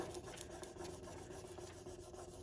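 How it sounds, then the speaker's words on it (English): A shimmering script transfer is burnished down, with a steady, faint rubbing rasp repeating in quick short strokes, close and quiet. "keep burnishing till the whole thing comes up"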